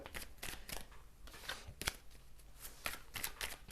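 Tarot cards being shuffled during a card reading, with a quick run of riffling bursts and brief pauses in between, heard close up with no talking.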